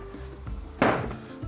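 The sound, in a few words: fish frying in vegetable and olive oil in a pan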